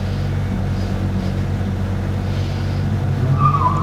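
A 2005 Subaru Outback runs an autocross course, its engine a steady low drone heard from a distance. Near the end the tires give a brief squeal.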